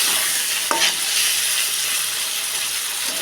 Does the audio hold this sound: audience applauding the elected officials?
no